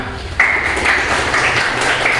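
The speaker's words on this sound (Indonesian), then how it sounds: "Beri tepuk tangan untuk kelompok pertama." A classroom of students claps for the first group, a dense burst of many hands starting abruptly and holding steady and fairly loud for a couple of seconds, with no voices over it.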